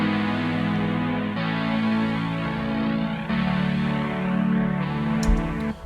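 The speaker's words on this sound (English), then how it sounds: "And then I've got the Prophet 5, which is my very favorite synthesizer that I own" Prophet 5 polysynth holds a simple sustained chord part, a dense steady pad with shifting harmonies across the passage, loud and alone without any voices.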